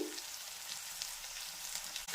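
Onion and tomato puree sizzles in a hot pan while a bottle gourd dish is cooked, a steady soft frying hiss with a brief stir noise at the end.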